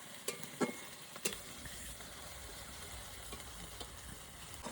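Ginger, garlic and onion paste sizzles quietly in a hot pan in a village kitchen, a steady low frying hiss with a few sharp stirring clinks near the start.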